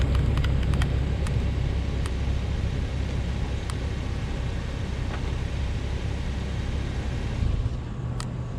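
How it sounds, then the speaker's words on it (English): Infiniti FX35 engine idling steadily near the microphone, a broad low rumble with a few faint clicks, then the engine is switched off and the drone drops away near the end. "Yeah, I'm gonna turn the car off."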